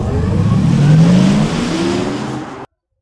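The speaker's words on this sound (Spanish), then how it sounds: "Es un auto eléctrico y veas qué hermoso suena." An Audi e-tron electric car drives past with a loud synthetic whine that glides steadily upward in pitch, with no combustion engine note. It holds for about two and a half seconds and then cuts off abruptly.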